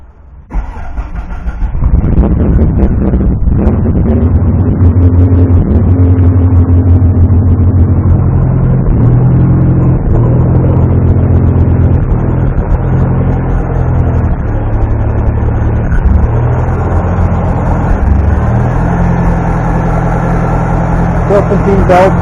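An engine cranks briefly and catches, then settles into a loud, steady idle with rhythmic pulsing and occasional small stumbles, running continuously close by.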